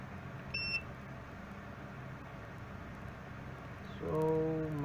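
The active buzzer on a MIFARE M302 RFID reader gives a short, faint, high beep early on, then a louder, longer tone near the end, against quiet room hiss.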